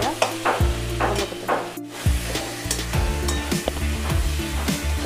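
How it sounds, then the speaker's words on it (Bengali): Onion, garlic and spices fry and are stirred in a pan for a home-style chicken and potato curry, giving a steady close sizzle broken by repeated scraping stirs with no voices. "তো আমার পেঁয়াজ রসুনটা ভাজা হয়ে গেছে, মজে গেছে পেঁয়াজ একেবারে।"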